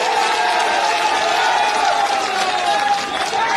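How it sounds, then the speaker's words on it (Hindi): A large outdoor crowd at an election rally in Chhindwara applauds and cheers to welcome Kamal Nath, a steady dense roar of clapping and crowd noise throughout. "जरा कमलनाथ जी के लिए जोरदार तालियों से उनका स्वागत करें।"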